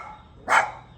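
A dog gives a single short bark at a moderate distance, standing alone against quiet background hiss.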